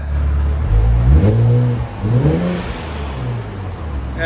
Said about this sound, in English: Yeah, you can hear the blow-off valve.